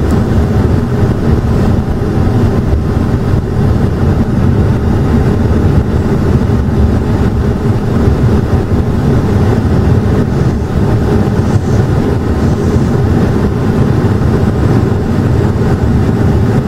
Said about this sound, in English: We got some cars coming by.